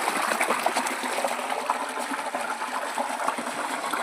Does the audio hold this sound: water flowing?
yes